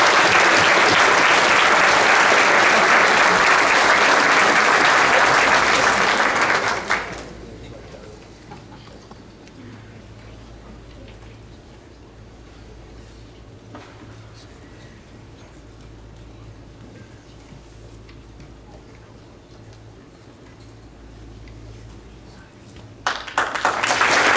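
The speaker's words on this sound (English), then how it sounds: "We give these gentlemen a round of applause." An audience at a county school board meeting applauds students with loud, dense clapping that fades into a quiet room murmur with faint ticking, then a fresh burst of applause rises at the end.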